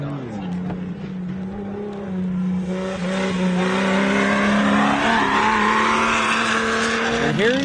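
4600 Pro Comp Stock class off-road race cars run the course at the MetalCloak Stampede, engines droning loudly and rising in pitch as they accelerate, with talk over the engine noise.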